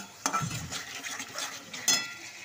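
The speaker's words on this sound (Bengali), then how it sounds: "তো দেখো টমেটোটাও দিয়ে দিলাম দিয়ে ভালো করে আঁচাটা করবো" Tomatoes stirred and frying in a pan, with a few soft spoon scrapes and clinks over a low sizzle, close and moderately quiet.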